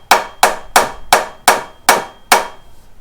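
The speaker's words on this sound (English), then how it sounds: "we'll just take a rubber Mallet. tap it off." A rubber mallet taps a part on a Detroit Diesel 671 engine after overhaul, seven sharp evenly spaced knocks, close and loud, with no talking.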